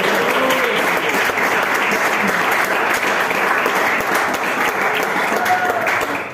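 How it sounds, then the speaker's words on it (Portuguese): Congregation applause fills a church worship service: dense, loud and continuous clapping sustained throughout, with faint voices mixed in beneath it. "E as palmas que vão."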